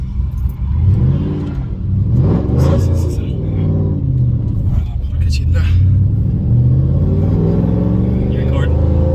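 An 800-plus horsepower Shelby GT500 roars close by as it accelerates hard, its engine pitch sweeping up through several gear pulls with a heavy low rumble, while people talk and react over it.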